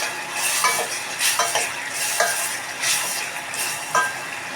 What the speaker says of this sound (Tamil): நல்லா அப்படியே வதங்கி அப்படியே சுருண்டு வந்த பிறகு